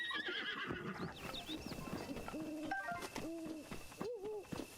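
Horse in the video game Zelda: Breath of the Wild, whinnying and snorting several times alongside clip-clopping hooves, close and clear with a bird hooting faintly in the background.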